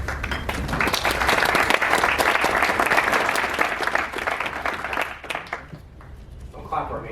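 Audience at an LNC report meeting claps for a speaker taking the floor, a dense burst of applause that swells, holds, then thins out as a voice begins.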